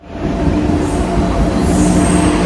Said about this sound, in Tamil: நம்ம இப்போ திருவனந்தபுரம் ரயில்வே ஸ்டேஷன் வந்தாச்சு.